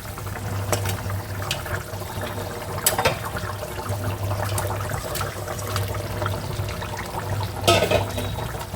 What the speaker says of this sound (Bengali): কিছুক্ষণ ফুটে গেছে আর ভিজে রাখা মাছগুলো দিয়ে দিচ্ছি